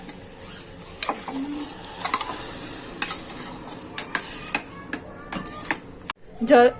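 Khichdi sizzles steadily in a hot pressure cooker pan while a spoon stirs and scrapes through it in irregular strokes, ending with a louder clatter.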